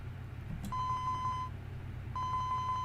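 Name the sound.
phone ringing in video game 428 Shibuya Scramble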